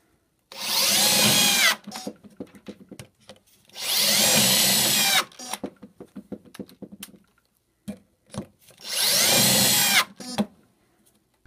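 A Fein ASCS 6.3 18V cordless drill driver whirs in three loud bursts, each driving an old roofing screw, separated by quieter clicks and handling noises.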